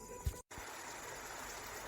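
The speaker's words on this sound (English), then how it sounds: "Wow, do you hear that water?" River water flows steadily through a cloud forest, a continuous broadband rush with one brief dropout and a low thump near the start.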